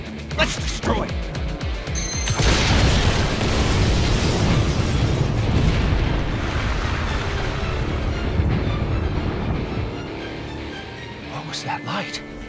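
A loud destruction explosion in the video game No More Heroes 3 bursts in after a short lead-in and rumbles on as a sustained, dense roar that slowly fades near the end, with a brief voice-like sound under it.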